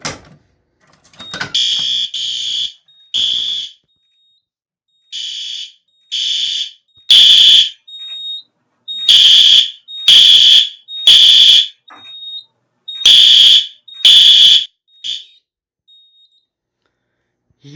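Several System Sensor SpectrAlert Advance fire alarm horns set to code 3 temporal pattern at high volume, blaring in loud repeating bursts of three with short silent gaps, close and alone with no talking.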